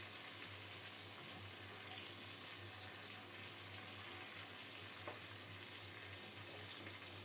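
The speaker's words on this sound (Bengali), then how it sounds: "মাছগুলো উল্টিয়ে দিচ্ছি।" Rohu fish pieces frying in a pan, being turned over: a steady, fairly quiet sizzle with a constant low hum and faint scrapes, no talking.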